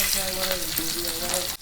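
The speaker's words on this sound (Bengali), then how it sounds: "এই এর মধ্যে আমি প্রথমে পেঁয়াজগুলো দিয়ে দেবো" Chopped onions hitting hot oil in a pan for street-style chicken chowmein: a loud, dense, continuous sizzle with some stirring clatter, close up, ending with a sudden dip.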